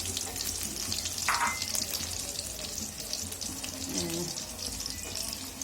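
Rohu fish roe frying in hot oil gives a steady, close sizzle that runs the whole time, with a few brief clinks and stirring sounds, and water from a tap may be running nearby.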